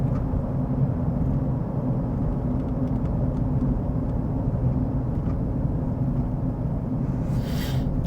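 2015 Ford Fusion heard from inside while driving on a road and slowing behind a truck, a steady low engine and road rumble with faint tyre noise, continuous and fairly loud, no talking.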